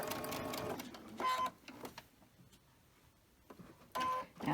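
Sewing machine stitching quilt pieces at a quarter inch, short loud whirring runs of rapid needle strokes broken by quiet pauses and soft handling of fabric.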